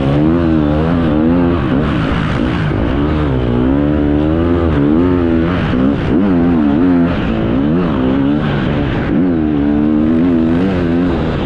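A motorcycle engine revs loudly and continuously during an enduro race, its pitch rising and falling as the throttle opens and closes, very close and alone without any talk.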